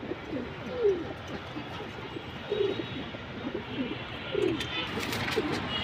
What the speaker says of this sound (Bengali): অল্প সংখ্যক কিছু কবুতর ভিডিওতে দেখাবো